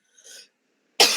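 Two short, close coughs from a person clearing the throat, a soft first cough followed after a pause by a louder, sharper one.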